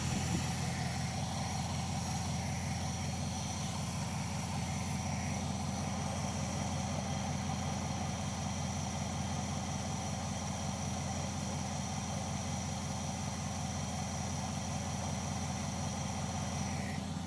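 A Charger crew cab engine with heavy blow-by and smoke from the breather idles steadily, a low, even, rhythmic throb that holds unchanged throughout at moderate distance.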